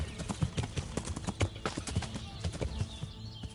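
Horse hooves in the medieval game Kingdom Come: Deliverance, a fast, steady clip-clop of galloping steps, close and fairly loud, with no talking.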